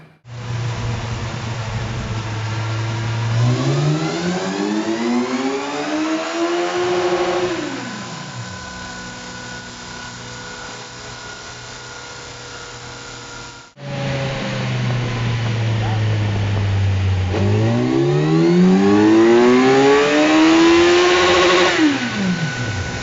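A Kawasaki Ninja 1000 SX engine revs hard on a dynamometer, two long full-throttle pulls climbing steadily in pitch then dropping off, loud and close with a brief break between runs.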